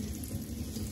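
Water running and splashing over a baby in a bath, a brief steady close trickle with no talk.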